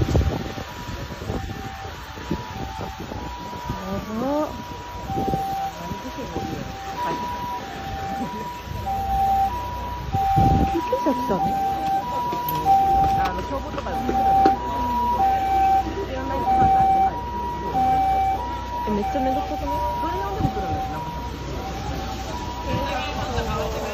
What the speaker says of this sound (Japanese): でも消防車も出したもんね